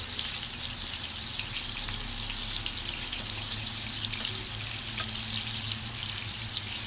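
Duck liver fries in a pan with a steady, close sizzle and fine crackling spatter, continuous throughout with small pops, no voices.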